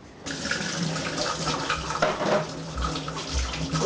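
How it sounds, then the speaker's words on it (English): Tap water runs steadily into a sink during handwashing in a home kitchen, a close, continuous splashing stream with slight shifts as hands move under it. "Wash my hands here."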